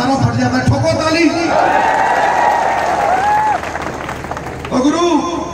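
Audience applause at a political rally speech in Haryana, a steady wash of clapping and crowd noise that holds loud across the clip, with a voice rising briefly over it partway through.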